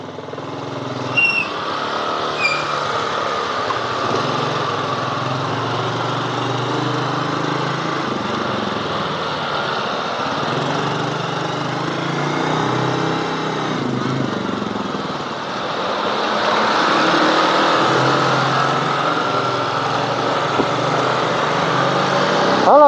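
A motorcycle engine hums steadily and continuously while riding on a touring trip from Tasikmalaya toward Wonosobo, Indonesia, with wind and road noise. It grows louder and rougher in the last few seconds, and no one speaks.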